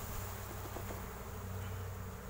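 Honeybees buzz as they are shaken off a hive frame during an autumn colony inspection, a faint continuous close drone of many insects with a few light knocks.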